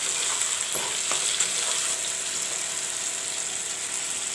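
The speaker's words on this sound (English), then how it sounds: "Let the tomatoes fry a bit." Chopped tomatoes with salt fry in a pan, a steady close hiss and sizzle running throughout, with a few faint clicks of stirring early on and no voices.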